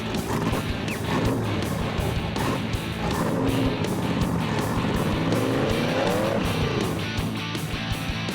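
A convertible with its top down drives out onto the highway. A continuous loud engine and road roar with wind rush and rising engine pitch carries on throughout.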